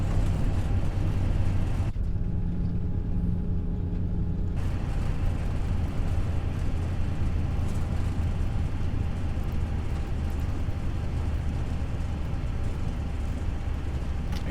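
FSLabs A320 airliner in Prepar3D rolling out after landing at Rome with reverse thrust engaged, a loud, steady broadband engine roar that fills the whole stretch, dipping briefly near the start before surging back and holding.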